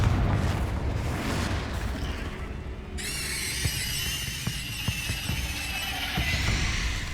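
A Confringo explosion spell from Hogwarts Legacy bursts into a loud, dense boom, followed by a crackling, bright fiery tail that lingers and sputters with scattered pops.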